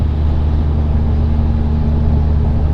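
A Ford E350 van with a V10 engine climbing a mountain grade in overdrive, producing a steady, loud, droning engine rumble with road noise that holds constant throughout.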